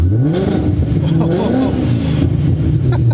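A 2019 Shelby GT350 800R twin-turbo with exhaust open in sport mode revs with a deep, rising and falling engine roar up close, while a person talks over it.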